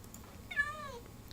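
A single short synthesized cat meow, clear and isolated over faint background noise.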